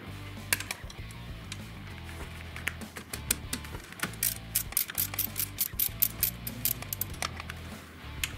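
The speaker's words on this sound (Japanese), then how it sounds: "あとこっちもですね、プーリーのナットも緩めます。" Ratchet wrench loosening a pulley nut on the fan and air-conditioning belt tensioner of a Toyota Land Cruiser 80, rapid close clicking strokes in repeated runs, with faint mechanical rattles and no talking.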